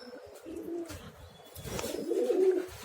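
Pigeons coo in a loft, soft low throaty coos repeating close by, swelling louder toward the end with faint chirps in the background.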